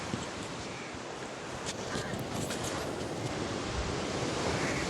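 Sea waves wash onto Colva Beach, Goa, in a continuous broad roar, with wind buffeting the microphone, steady and fairly loud with no voices.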